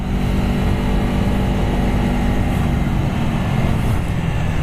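A 2017 Aprilia Tuono motorcycle engine drones steadily while riding, heard as a loud, constant low rumble mixed with heavy wind noise throughout, no speech.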